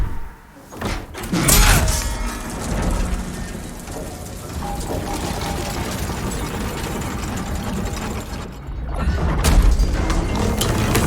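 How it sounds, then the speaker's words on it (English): A lever-operated gate in Demon's Souls grinds open in Boletaria, starting with a heavy thud and slam, then a long rumbling mechanical drone that swells again near the end, loud and close. "So now that gate from the beginning is open"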